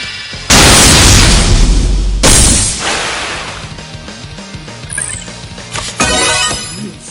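Multiple beam launcher attack from Neptunia, a massive booming blast that roars for nearly two seconds, then a second heavy burst and a string of fading crackles and pops, loud and up front.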